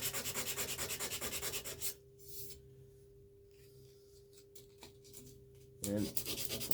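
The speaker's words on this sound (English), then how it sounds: "So it's not a lot to tell about while hand sanding." A chef knife blade being hand sanded with abrasive paper, a fast steady back-and-forth rubbing rhythm up close, a pause with faint scuffs, then the brisk sanding strokes start again.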